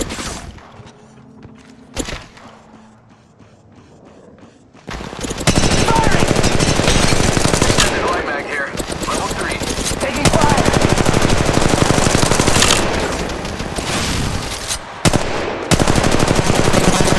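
Loud, dense automatic gunfire from the mobile game Apex Legends Mobile erupts after a few quieter seconds, then rattles almost continuously with brief breaks.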